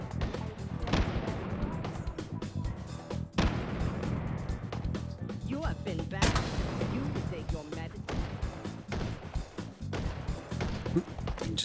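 Rocket blasts go off in the VR shooter Hot Dogs, Horseshoes & Hand Grenades, several heavy booming explosions with sharp cracks layered over continuous loud game noise.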